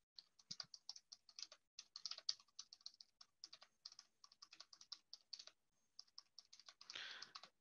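Rapid keystrokes on a computer keyboard while an activity title is typed into e-learning software, a steady run of close, crisp clicks with a brief pause near the end before a denser burst.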